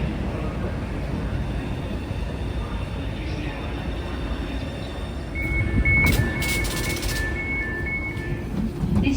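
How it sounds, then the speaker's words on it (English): Interior rumble of a DLR B92 stock train in motion, a steady low rolling drone with a brief rise in noise and a high electrical whine partway through. "the train we're on right now, the B92, replaced"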